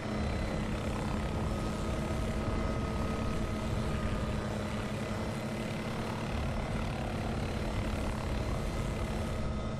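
Aircraft engine in the Garry's Mod video game, powering up for takeoff, with a steady droning engine and propeller-like hum held at constant loudness throughout, close and continuous with no talk.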